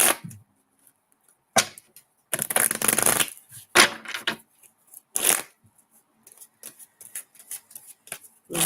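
Tarot cards are shuffled by hand in quick irregular riffling bursts, close and crisp, separated by short quiet gaps.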